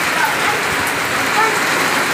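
Heavy rain pouring in Hyderabad, a dense, steady roar of drops hitting surfaces, loud and close throughout with no break.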